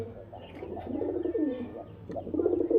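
Giribaz high-flyer pigeons coo in a steady, throaty murmur close by, the soft rolling calls overlapping and swelling slightly toward the end over a low background hum.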